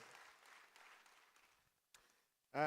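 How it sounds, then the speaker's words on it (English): Audience applause at the Afreximbank annual meetings, a faint, distant patter of clapping fading over about two seconds before a short burst of louder sound. "Another round of applause, please, for our host, Governor Addison."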